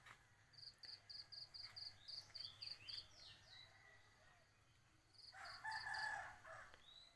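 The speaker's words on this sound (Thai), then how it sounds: "เสียงไก่ขัน" A rural rooster crows at a distance, faint and drawn out, while crickets chirp in quick rhythmic bursts and other birds call in the quiet countryside background.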